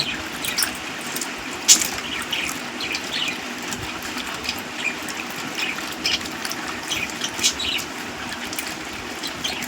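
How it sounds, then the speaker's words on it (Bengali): Mangoes washed by hand in water, a steady close sloshing and splashing as fruit is rubbed and turned, with occasional sharper drips and churns. "এবার ভালো করে চটকে ধুয়ে নিচ্ছি"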